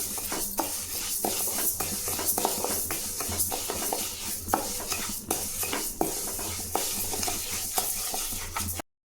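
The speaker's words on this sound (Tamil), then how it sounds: "பாசிப்பயிர் இதையும் பொன்னிறமாக வறுத்துக்கலாம்." Moong dal being dry-roasted golden in a pan, with continuous, close scraping and stirring and a light crackling sizzle at an even, brisk rhythm, no voices.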